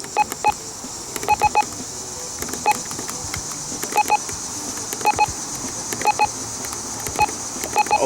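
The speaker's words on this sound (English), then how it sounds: "the button beeps on the Honeywell RN507W working version" Button beeps of a Honeywell RN507W radio, short electronic tones in quick pairs and clusters spread steadily across the stretch, close and clear over a faint background hum with no talking.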